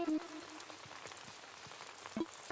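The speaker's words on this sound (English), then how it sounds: "It is raining, so it's on brand." Rain in the video game Animal Crossing: New Horizons, a quiet steady patter of drops falling over a soft hiss throughout, with faint brief tonal blips at the start and near the end.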